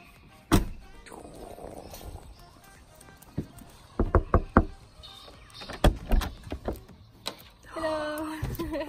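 A motorhome door slams once with a sharp thud, followed by scattered knocks, clicks and footsteps inside the vehicle, then a brief voice near the end.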